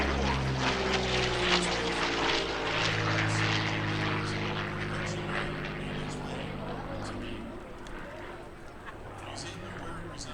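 P-40 Warhawk fighter plane making a high-speed pass at a New York air show, a loud propeller-engine roar sweeping past and fading, with an announcer talking throughout.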